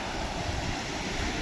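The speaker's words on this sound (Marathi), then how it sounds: "जेव्हा धबधबा किती वाढलेला आहे." A swollen waterfall on the flooded Godavari river rushes with a steady, loud, broadband roar. The roar is brief and continuous, with no voices.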